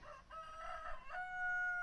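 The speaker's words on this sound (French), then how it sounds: "Le chant du coq enroué monta d'une métairie." A hoarse rooster crows once from a farmstead at dawn, a drawn-out strained call that rises and holds steadily, fairly faint and heard alone.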